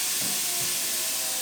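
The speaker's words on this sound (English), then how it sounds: "we boil the water" Steady hiss from a pot of water heating on a stove, a constant close rushing sound with faint low bubbling, no voices.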